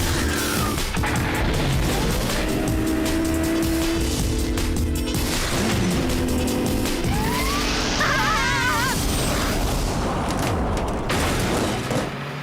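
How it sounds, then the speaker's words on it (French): A cartoon car in an animated action series switches into jet-engine turbo mode: a loud, continuous mechanical roar with crashing, squealing effects and a rising whoosh, layered over busy soundtrack music. "je veux un moteur à réaction. Mode turbo-réaction."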